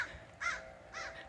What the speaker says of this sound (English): crow is yelling at a hawk up there